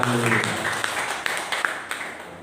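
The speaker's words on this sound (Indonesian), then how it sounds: "Tepuk tangan buat Tuhan Yesus" Congregation applause at a Christian church sermon, a dense wash of clapping with a few sharper individual claps standing out, moderately loud and continuous without speech.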